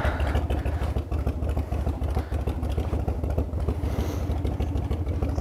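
A carbureted Evo engine on a 1997 Harley Springer Softail thumps along while being ridden, loud and near, a continuous low rhythmic rumble with faint mechanical clatter and no talking.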